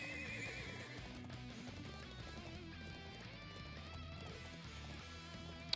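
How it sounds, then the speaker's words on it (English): Thoroughbred war horses from a family's stables in the video game Trails of Cold Steel IV, neighing and galloping with clip-clopping hooves over a busy orchestral music bed, moderately loud throughout. "Thoroughbred war horses from the Bardius family's own stables"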